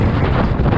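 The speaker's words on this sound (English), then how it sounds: "that was a good gust" A strong gust of wind buffets a sailboat at sea, a brief loud roar of wind noise hitting close to the microphone.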